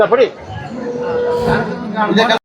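HF and Jersey dairy cattle at a cow market low in long moos, one drawn-out call followed by another rising moo near the end, with market chatter faintly behind.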